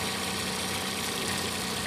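A Mercury 9.9 hp Bigfoot outboard motor idles steadily and close, a continuous, even mechanical hum with no talking over it.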